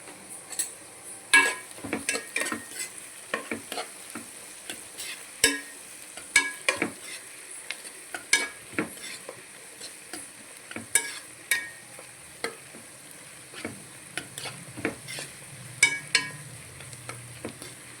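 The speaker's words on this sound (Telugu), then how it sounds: "కొంచెం మగ్గితే చాలు ఉల్లిగడ్డ కరివేపాకు వేసేసుకుందాం" Onions and curry leaves frying in a pan for green egg curry, a faint steady sizzle under frequent sharp clinks and scrapes of a spoon stirring against the pan, close by, with no talk.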